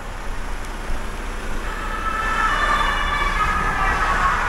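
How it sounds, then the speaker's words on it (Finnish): An ambulance siren switches on and wails with a wavering tone, rising in loudness over steady road and engine rumble near a truck-mounted crane being set up on its support legs. No one speaks. "ambulanssi pani pillit päälle"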